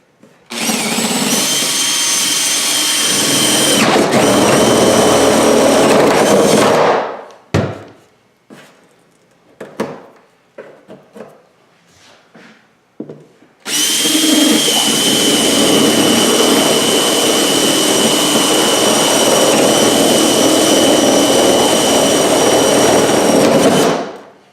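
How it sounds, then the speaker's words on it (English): A power drill bores holes all over a plastic garbage can being made into a DIY dust collector. Two long, loud, whining bursts of drilling are separated by a quieter stretch of scattered clicks and handling knocks. "So I'm going to start off with drilling a bunch of holes through this garbage can everywhere."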